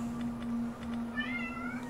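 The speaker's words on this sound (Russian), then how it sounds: "что-то мяукает у меня" A cat meows several times in a rising, drawn-out call over a steady low hum from a Rome II Total War game session, fairly close and clear with no talk.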